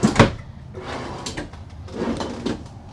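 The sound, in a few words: bathroom drawers of an RV opening and closing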